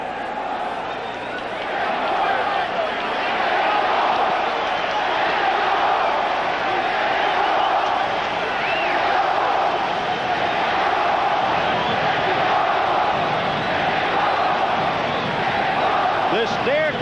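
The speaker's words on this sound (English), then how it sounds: "This near-capacity crowd chanting Mexico, Mexico as we begin the fight" A near-capacity boxing crowd at a Julio Cesar Chavez vs Angel Hernandez WBC super lightweight title fight chants and roars as one continuous loud, dense wash of voices, with a commentator faintly audible beneath.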